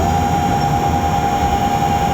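Hub-motor electric skateboard running at full speed: a steady single high-pitched electric whine held constant over a soft rolling rumble, continuous for the whole two seconds with no voices.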